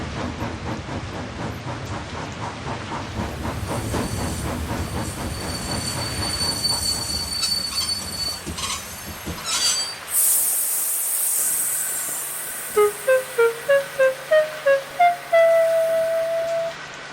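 A train in the Trainz railway simulator rumbles and clatters along, then slows with rhythmic wheel thumps and a high, drawn-out metallic squeal of braking wheels.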